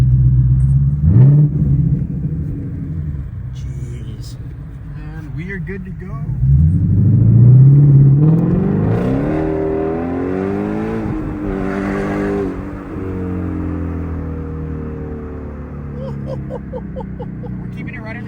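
A 2017 Shelby GT350 engine revs and pulls hard with sharp downshifts, its loud rising roar swelling midway and then holding a steady drone under frequent talk and exclamations from people inside the car.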